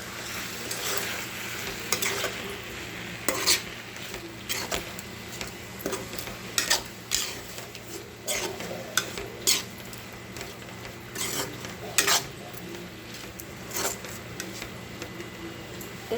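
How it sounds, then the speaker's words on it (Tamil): Beaten egg with drumstick leaves is stirred in a hot pan, a soft sizzle running underneath repeated scraping strokes of a spoon against the pan at an irregular rhythm, close by with no talk. "நல்லா கிளறி விட்டுக்கலாம்."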